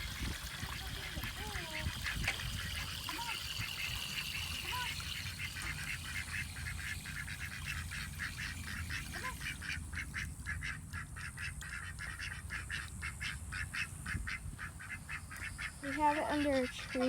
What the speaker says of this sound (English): I'm gonna let the ducks out